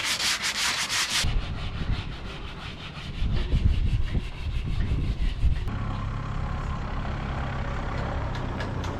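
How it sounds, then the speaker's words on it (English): Abrasive scraping of 80-grit sandpaper and a sanding sponge against an aluminum boat hull sitting on a hydraulic lift in a workyard, a steady close rasping that continues throughout with shifts in intensity. "we're using 80 grit sandpaper and this 80 grit sponge."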